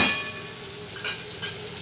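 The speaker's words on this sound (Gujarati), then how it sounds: "આમાં પાણી બિલકુલ નાખવામાં આવતું નથી, ખાલી તેલમાં ફ્રાય જ કરવાનું હોય છે એકદમ," Eggplant frying in oil with no water added, a faint, soft sizzle with a couple of brief stirring scrapes, heard alone and close.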